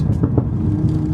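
A Stage 2 tuned Audi S3 saloon engine runs close by with a steady, deep rumbling drone, holding an even level throughout.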